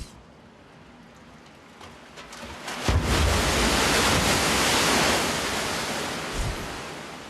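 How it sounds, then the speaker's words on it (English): A lab wave machine in Kanagawa sends a man-made tsunami down a 180-meter chute, a broad roar of rushing water that swells loudly partway through and stays strong before easing slightly. "engineers are using the largest man-made tsunami in the world to help design stronger coastal structures"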